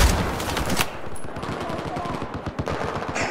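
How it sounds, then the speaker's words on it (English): Battlefield 4 video game gunfire: rapid automatic shots crackle loudly and continuously through the whole stretch, with dense bursts near the start and steady rattling afterward. "Why are you shooting at me?"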